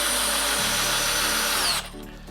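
A Milwaukee M12 12-volt hammer drill drives a 5-inch power lag screw, giving a loud, steady high motor whine with a low pulsing churn that cuts off abruptly near the end, leaving a brief quieter tail.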